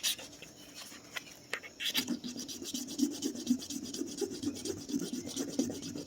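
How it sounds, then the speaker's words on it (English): Metal item being rubbed on a testing stone for a chemical metal test, a faint, close scratching rasp that starts after a quiet opening and continues in quick repeated strokes. "I'm going to rub some of this on the stone here."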